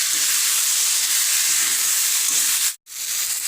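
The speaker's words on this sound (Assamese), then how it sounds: "এইখিনি এবাৰ আকৌ মিক্স কৰি মই এতিয়া আকৌ ভাজি ল'ম" Mixed vegetables frying in a pan, a steady bright hiss of sizzling oil that cuts out for a moment near the end and then returns.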